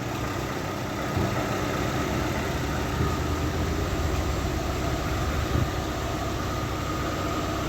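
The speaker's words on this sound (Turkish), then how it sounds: "Şimdi benzinde çalışıyor araba." A Renault 19 with a fuel-injected engine idles on petrol, a constant, even rumble heard close up with no voices over it.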